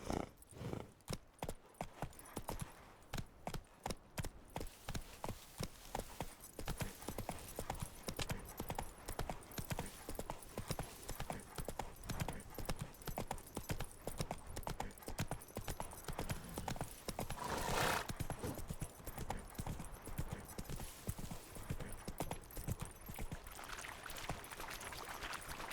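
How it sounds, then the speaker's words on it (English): Horse hooves clip-clop steadily in The Witcher 3 video game, a continuous rhythmic trot running the whole time, fairly loud with occasional neighs and game ambience, and a voice speaking briefly at times. "Whoa there, Roach"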